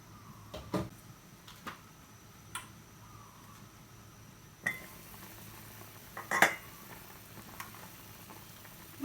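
A metal lid is set onto a pot of simmering tilapia tom yum, giving a few light clanks and clinks spread over a quiet background, with one sharper knock near the end.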